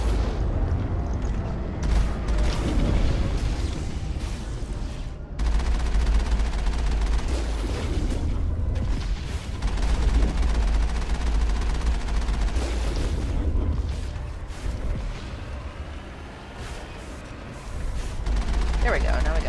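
Mass Effect combat gunfire rattles through in repeated bursts and heavy booms over a rumbling low background, with a voice talking at times over the shooting.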